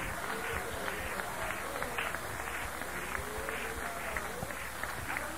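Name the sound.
congregation clapping in worship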